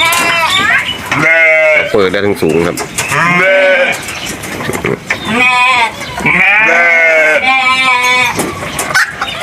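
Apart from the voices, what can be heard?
sheep and goats bleating on a farm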